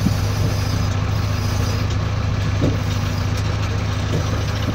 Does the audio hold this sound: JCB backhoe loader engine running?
yes